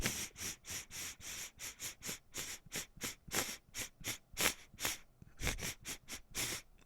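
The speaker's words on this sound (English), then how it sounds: "sniffing sounds like an old school typewriter." Rapid, rhythmic sniffing through the nose, about two dozen quick close-up sniffs in a row, each short and sharp, with no talking.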